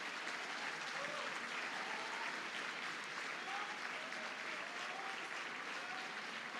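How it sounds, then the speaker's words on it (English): An audience applauds JROTC cadets at an awards ceremony, a steady dense wash of clapping from many hands that fills the whole stretch at even volume, with a few faint whistles. "Let's give them a round of applause."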